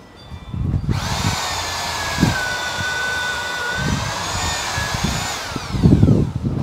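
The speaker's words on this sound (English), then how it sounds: "he's going to drill a series of holes at this end." A power drill whines steadily while drilling holes in wood, its pitch holding high and then dropping as it winds down, with a few low thumps and knocks underneath.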